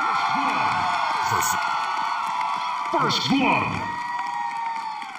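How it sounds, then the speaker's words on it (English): Audience at a dance competition cheers, whoops and shouts for the third-place winners, a dense crowd roar with a swelling burst midway, mixed with a voice talking over it. "how about a big hand of applause?"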